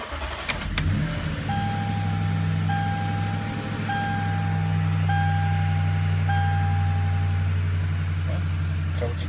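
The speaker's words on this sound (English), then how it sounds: "Now I'm gonna start it, see what happens." A 2011 Toyota Sequoia engine cranks and catches, then settles into a steady low idle close by. A regular electronic beep chimes five or six times over the running engine.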